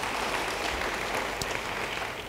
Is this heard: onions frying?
no